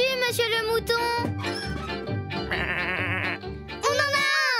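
A sheep bleats several times in loud, wavering cries close by, with short gaps between the calls.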